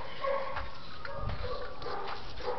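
Several puppies whimpering and yipping inside a doghouse, soft overlapping high whines and little cries close by, with some low thumps and rustling beneath them.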